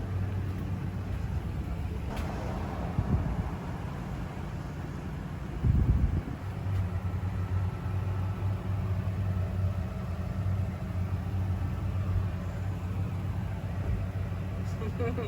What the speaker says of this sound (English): I'm gonna leave the car running.